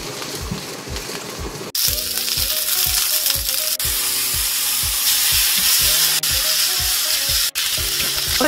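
Button mushrooms hit a pan of generous oil over medium heat and sizzle loudly, a steady close frying hiss with intermittent clinks and scrapes of stirring, no voices.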